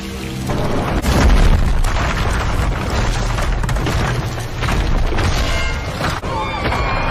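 An explosion sound effect booms loudly with a deep rumble followed by crackling debris and rolling noise that fades slightly toward the end.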